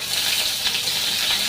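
Bay leaf and green chili sizzle in hot oil for a potol aalu curry, a steady, loud, crackling fry that holds without break and with no talk over it.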